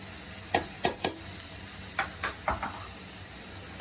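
Ginger garlic paste frying with golden onions in a pan for Suvarna gedde (elephant foot yam) sambar, a steady soft sizzle broken by several sharp stirring scrapes and clinks, close and alone.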